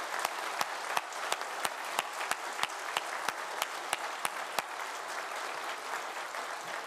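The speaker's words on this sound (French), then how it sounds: "je souhaiterais que l'on applaudisse une nouvelle fois tout l'encadrement de Novarka" An audience applauds at the ceremony marking the confinement of Chernobyl's reactor No. 4, steady moderate clapping with sharp individual claps standing out, slightly distant and tapering toward the end.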